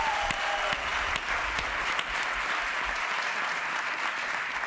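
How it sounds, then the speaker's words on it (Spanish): A crowd applauds steadily and loudly, dense clapping sustained throughout with no voices standing out. "Un aplauso, hombre, para ahí."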